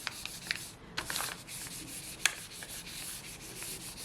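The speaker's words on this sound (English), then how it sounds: "Give it a good rub." Paper rubbed by hand over foliage laid on a gel printing plate, a soft continuous scuffing broken by a few sharper brushing strokes, close and steady.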